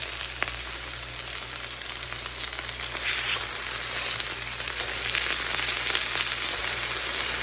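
Schweid & Sons Signature Blend burgers sizzle steadily in a hot pan, a dense continuous frying hiss that holds close and even, slightly swelling over the seconds, with no voices.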